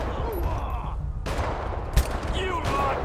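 Gunfire from Trevor's weapon in GTA V, a dense burst of shots over game ambience and background noise, with a louder crack near the middle and a voice talking briefly.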